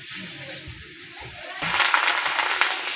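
Rice frying in hot oil, a hissing sizzle that is quieter at first and then swells abruptly into a louder, bubbling crackle partway through.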